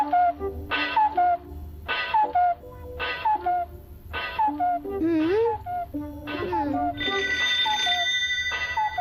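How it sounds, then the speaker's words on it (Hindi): A cartoon telephone rings in repeated bursts of a bright electronic warble in a Doraemon episode, five or six rings in a steady rhythm with a voice speaking between them and a sustained tone near the end. "अरे फोन बज रहा है"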